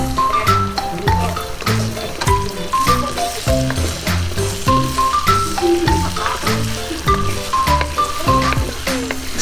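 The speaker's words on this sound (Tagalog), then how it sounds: "Stir fry lang natin siya ng mga 1 to 2 minutes." Pork strips stir-frying in a hot pan for noodles, a steady crackling sizzle with irregular scraping and clanks of a utensil stirring, loud and close throughout with no talk.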